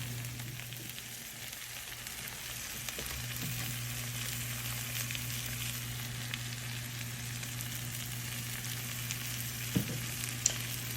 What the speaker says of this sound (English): these are going to be our sauté Brussels sprouts